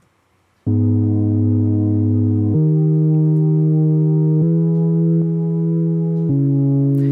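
Sustained synth chords in Ableton Live change every couple of seconds, with a warm, slightly gritty saturated tone from a Roar saturation effect and no voices.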